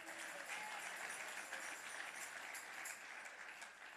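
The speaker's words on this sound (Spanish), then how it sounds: "Dele ese aplauso fuerte al Señor." A church congregation at a Bible study gives a steady, soft wash of applause that holds at an even level throughout.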